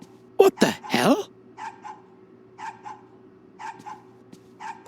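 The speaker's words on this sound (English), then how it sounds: "When will this damn dog shut up?" In the video game The Safe Place, a dog gives repeated short barks in evenly spaced bursts over a steady low hum, after a loud opening burst of another sound.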